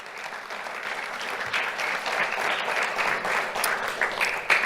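An audience at a school awards ceremony applauds the school board, a steady, full round of clapping that stays dense and even for several seconds.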